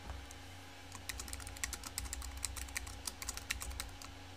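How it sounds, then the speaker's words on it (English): Quick bursts of typing on a computer keyboard, crisp clicky keystrokes in an uneven patter over a faint low hum, close and alone with no talking. "So I'm going to type something out really quick."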